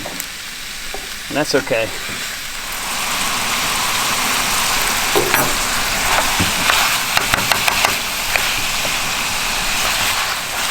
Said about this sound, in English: It's just a matter of moving everything around in the pan, making sure everything gets cooked through.